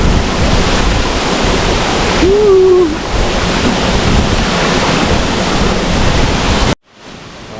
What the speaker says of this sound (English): I'm actually sat in one of the little rock pools now, just at the base of the waterfall.